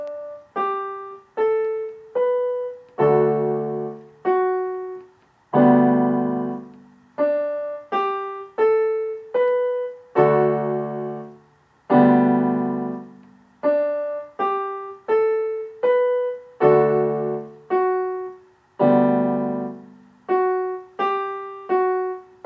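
Piano rendition of a piece played with both hands, clear plucked chords and a repeated bass note in a steady rhythmic pattern, alone with no voices.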